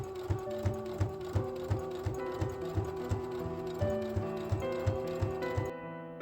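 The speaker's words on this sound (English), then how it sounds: "I'm going to edge stitch it right here along the edge" A sewing machine edge stitches a drawstring casing, its needle thumping in a quick, steady rhythm over a constant motor whine, close and fairly quiet, stopping abruptly at the end.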